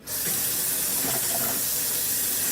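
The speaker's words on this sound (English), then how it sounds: "Rinse off this spoon that I use for the rice." Tap water runs steadily and loudly into a sink to rinse a spoon used for rice, a continuous close hiss with no talking.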